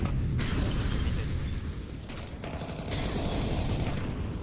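Grenade and flashbang blasts in Counter-Strike form a dense, loud wash of explosive bursts and rumbling debris. Sharper cracks break through near the start and again around the three-second mark, and no one talks.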